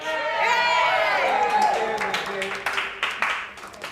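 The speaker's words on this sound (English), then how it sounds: "Big cheer for the birthday boy" Crowd cheering and applauding for a birthday boy, a dense burst of clapping and whooping voices that holds strongly at first, then thins into scattered claps.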